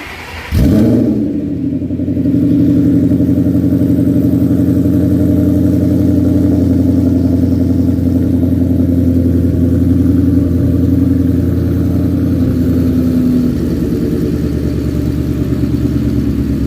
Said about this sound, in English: He's going to fire it up, and we're going to see how it sounds.